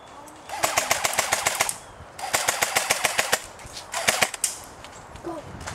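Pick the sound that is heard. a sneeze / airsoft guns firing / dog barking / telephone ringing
airsoft guns firing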